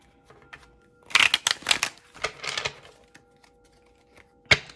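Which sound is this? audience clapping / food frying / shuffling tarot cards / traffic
shuffling tarot cards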